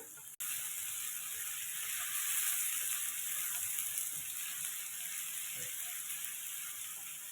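Onions fry in a pan for a spinach curry, a soft, even sizzling hiss that holds steady throughout with a single sharp click near the start, no voices present.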